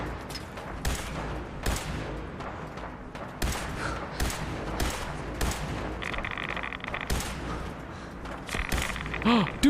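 Gunfire from a robot in Fallout 4's Automatron DLC, bursts of sharp shots scattered through a busy game soundscape, some close and loud, with a tonal electronic whine in the later part.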